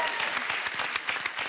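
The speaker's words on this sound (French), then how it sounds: "Et on applaudit Morgane et Marie." Studio audience of a French morning TV dating show clapping for two guests, Morgane and Marie: dense, steady applause with sharp individual claps standing out, filling the whole moment without a voice over it.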